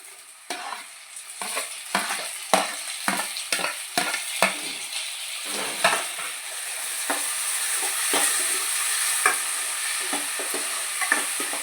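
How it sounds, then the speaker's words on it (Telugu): Tomatoes frying for an Andhra-style chicken curry, stirred with a spoon that knocks and scrapes the pan in a quick series of strokes, then settling into a steady, close hissing sizzle with occasional scrapes. "నెక్స్ట్ టమాటా వేసుకుంటున్నాం."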